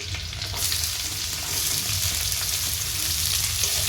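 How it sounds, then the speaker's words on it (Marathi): Chopped onion frying and being stirred until brown for homemade veg noodles, with a continuous close sizzle. Light stirring scrapes run through it without pause. "मस्त कांदा परतून घ्यायचा ब्राऊन"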